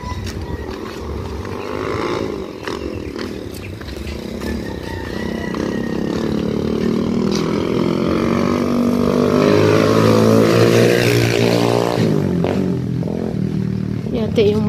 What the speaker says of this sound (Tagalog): Ang lakas magpatakbo ng motor na yun.